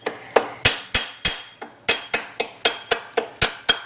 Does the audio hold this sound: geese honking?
no